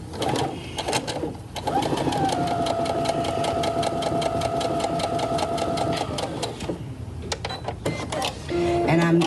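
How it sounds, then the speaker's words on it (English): Brother BQ 1350 sewing machine fitted with a quarter-inch piecing foot stitching quilt pieces, a close, steady whirring run of rapid needle strokes lasting several seconds, with brief starts and stops at either end. "I'm going to demonstrate a 1/4-inch foot on the Brother machine"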